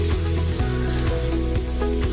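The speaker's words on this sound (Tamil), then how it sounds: "பூண்டு, இஞ்சி, இப்போ இது எல்லாத்தையும் பச்சை வாசனை போகிற அளவுக்கு வதக்குங்க." Garlic and ginger sautéing in a pan for Indo-Chinese chilli fish, producing a loud, dense sizzle close by over a steady low droning hum.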